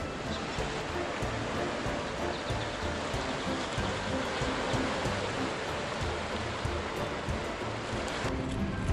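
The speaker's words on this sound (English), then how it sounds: "the waves crashing in on the rocks behind you" Ocean waves crash steadily against coastal rocks along the Bronte to Coogee coastline in Sydney, a constant broad roar of surf and spray with no pauses, close and fairly loud throughout.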